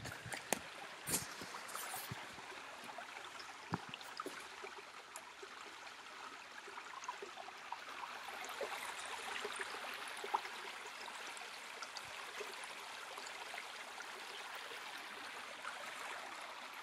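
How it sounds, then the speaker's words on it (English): A small creek flows in the woods, a faint, steady trickling wash with a few scattered clicks and knocks near the start. "Show you the creek first."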